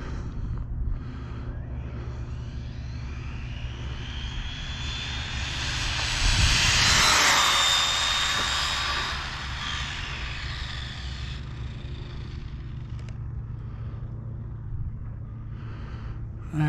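An Arrma Typhon RC car on a speed run test pass, heard as a steady high-pitched motor whine that swells to a loud peak as it passes close by, then fades back into the distance.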